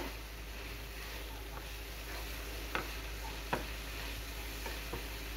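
Gobi cooks in masala in a pan with a faint, steady sizzle throughout, broken by a few sharp clicks of stirring.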